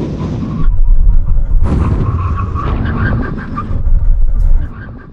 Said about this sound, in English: Now we're going to have a brake test from 70 miles an hour. When we reach the line, full emergency stop.